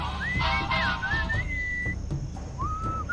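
An enchanting melodic whistle sounds in the video game Sam & Max Beyond Time and Space, with sliding, wavering notes in several phrases over a low background hum.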